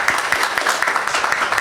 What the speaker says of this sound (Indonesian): sekali lagi mana tepuk tangannya?